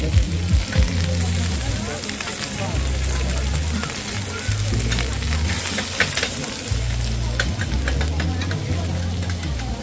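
Loud, continuous sizzling of mixed seafood and shellfish frying on a hot pan at a street food stall in Chiang Mai, with scraping and clattering utensils and a low rumbling hum underneath.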